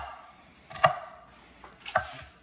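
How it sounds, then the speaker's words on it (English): Two crisp knife chops through an onion on a cutting board, spaced about a second apart, close and clear with no talk. "slice straight down to that root, but not through the back of the onion"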